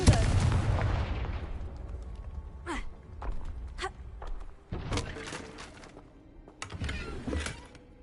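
Confringo fire spell cast in the Hogwarts Legacy video game: a loud whooshing blast opens, followed by scattered sharp cracks, thuds and rumbling impacts, close and punchy.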